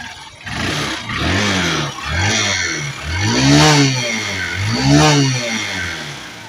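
A Honda Shine 125 motorcycle engine revs up and falls back in several repeated throttle blips, close and loud, with a steady mechanical clatter beneath and no talk.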